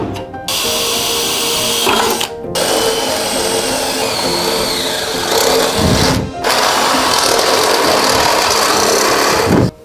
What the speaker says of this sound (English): Hole is now drilled.